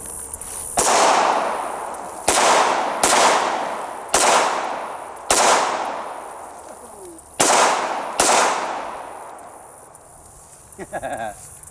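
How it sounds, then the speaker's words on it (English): Loud, close gunshots from a Kimber 1911 Target Model .45 pistol, seven sharp reports with echoing tails fired at an irregular pace over about eight seconds outdoors. "This is a sweet shooting gun."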